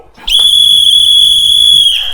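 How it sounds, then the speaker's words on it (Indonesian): A loud, sustained referee's whistle blast at a football match, a single piercing tone held steady for nearly two seconds before cutting off. "peluit yang kencang sekali"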